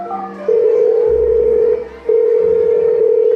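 A telephone tone sounds during a school annual day stage performance, a loud steady electronic hum that holds, breaks off briefly, then resumes, with faint background noise underneath.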